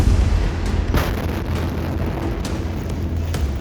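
The 2020 chemical explosion at the Beirut port, a heavy rolling rumble broken by several sharp booming bursts.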